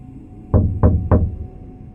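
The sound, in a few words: slow deliberate knocking on a door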